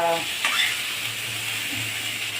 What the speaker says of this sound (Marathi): छान परतून घेणे.